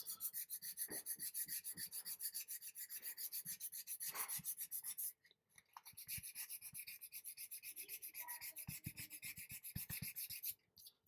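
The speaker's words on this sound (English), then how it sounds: "So I'm going to sand around the neckline like this." Body filler around the neckline of a quarter-scale Hellboy sculpture is sanded by hand in steady, rhythmic back-and-forth rasping strokes, close and fairly faint, with two brief pauses.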